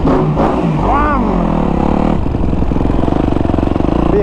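A new Kawasaki KX250F dirt bike engine runs loud and close, its pitch rising and falling as it is revved, then settling into a steady, rapid pulsing drone.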